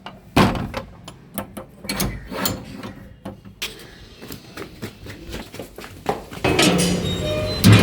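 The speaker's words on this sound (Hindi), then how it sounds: "दरवाज़ा बंद कर देते हैं" A house door swings shut indoors with a few sharp knocks and clinks, followed by rattling handling noises and a louder thud near the end. No one speaks.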